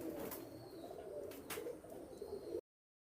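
High-line pigeons coo in soft, low, rolling calls close by, with a couple of sharp chirps, before the sound cuts off abruptly.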